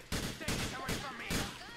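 Gunfire in the video game Grand Theft Auto IV: three loud, close shots spaced roughly evenly across two seconds, each a sharp burst with a ringing tail.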